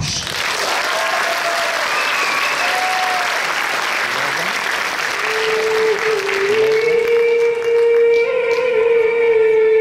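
Thunderous applause fills a stage event, dense and sustained from an audience welcoming a performer back, while music with a sung tone starts to rise underneath toward the end.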